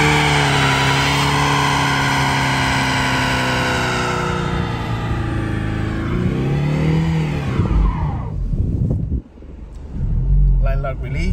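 A 2024 Ford Mustang convertible revs hard during a line lock burnout, a loud sustained engine roar climbing in pitch for several seconds before dropping off and surging again near the end.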